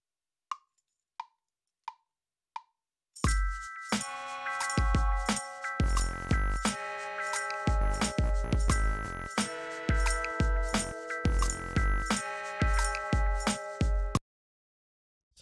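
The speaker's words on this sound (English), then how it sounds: "Just grab up some percussion." Percussion track played back through a mobile audio interface: four count-in clicks lead into a busy loop of clinking, jingling metallic hits and deep thuds in a steady groove that runs about eleven seconds and stops abruptly.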